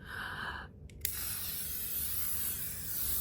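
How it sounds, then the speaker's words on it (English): L'Oreal Paris Infallible makeup setting spray hissing out in a steady, soft mist that runs for a few seconds, quiet and close after a faint sound at the start. "I am going to take my trusty L'Oreal Paris Infallible Setting Spray because this is like hairspray."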